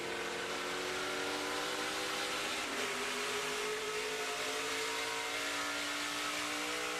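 A racing pickup truck engine drones steadily at speed during an oval race, its pitch dropping briefly midway as it shifts gears before climbing again.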